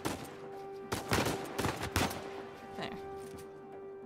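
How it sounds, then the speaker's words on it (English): Gunfire in the video game Uncharted 4: several sharp shots in quick clusters around the middle, with scattered fainter bursts and a steady background hum, and a brief spoken word in between. "I hear other shooting."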